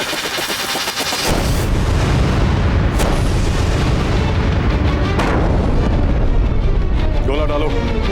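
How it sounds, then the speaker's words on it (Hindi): Cannons fire during a battle at Chittor fort in a Maharana Pratap historical drama, with heavy booming blasts that merge into a continuous loud roar as voices shout over it. "बरसाते रहो तोपों से गोले"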